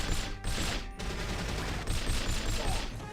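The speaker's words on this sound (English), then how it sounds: "Fire at will!" A volley of gunfire in a GameCube game: dense overlapping shots and crackling bursts fill about three seconds with steady intensity, a few louder cracks standing out, and no talk.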